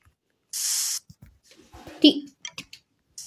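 A short spray-bottle cleaning burst in a Toca Boca video game, a bright hissing blast lasting about half a second, followed by scattered game clicks and a voice talking.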